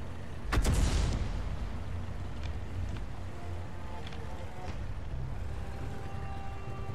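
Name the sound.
tank gun firing in World of Tanks video game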